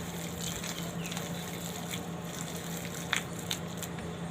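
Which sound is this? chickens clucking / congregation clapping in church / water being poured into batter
water being poured into batter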